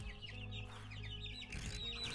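Chickens nesting in a coop in the 7 Days to Die video game cluck softly and repeatedly, with short, irregular calls over a low steady hum and no talk.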